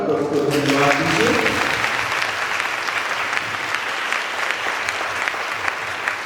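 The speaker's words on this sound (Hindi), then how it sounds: "जोर से ताली बजाकर प्रभु को धन्यवाद दीजिए।" A church congregation at a Catholic Bible convention claps loudly and steadily, a dense crowd applause that starts beneath a singing voice and then continues alone.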